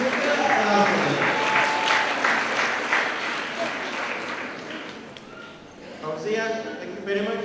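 A graduation crowd applauds a graduate, loud steady clapping that thins out over several seconds before a voice comes in at the end.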